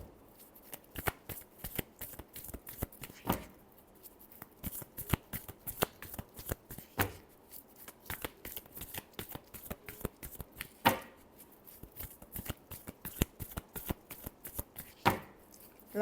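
Tarot cards shuffled repeatedly by hand, a long run of quick riffling flutters and sharp card slaps in uneven bursts, close and fairly quiet with no talking.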